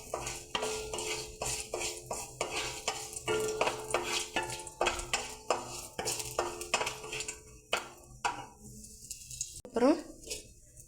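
Bay leaf, stone flower, star anise, cardamom and cinnamon crackle in hot oil for biryani, with repeated sharp utensil clinks and scraping stirs throughout while a person talks over the cooking.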